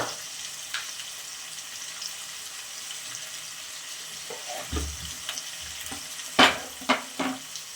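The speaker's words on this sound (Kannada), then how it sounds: "ಹಸಿಮೆಣಸಿನ್ಕಾಯಿ ಸೇರಿಸ್ಕೊಳ್ತಾ ಇದ್ದೀನಿ ಇವೆಲ್ಲ ಚೆನ್ನಾಗಿ ಫ್ರೈ ಆಗಬೇಕು" Green chillies fry in a pan with a faint, even sizzle, then a few sharp clinks and scrapes of a utensil near the end; no talk is heard.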